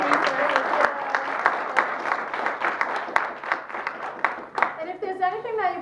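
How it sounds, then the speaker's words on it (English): A meeting audience applauds Nicole for her research, with a steady wash of clapping that tapers off near the end as a voice resumes. "Can we give Nicole another round of applause for amazing research?"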